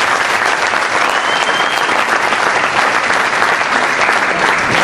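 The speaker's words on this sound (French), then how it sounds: "Donc s'il vous plaît, si on peut l'applaudir" An audience bursts into sustained applause, with loud, dense clapping that continues unbroken from start to finish, close and full, with no speech over it.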